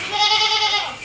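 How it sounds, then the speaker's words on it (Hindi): A dairy goat gives one loud, close, wavering bleat lasting about a second. "दूध वाली बकरी है"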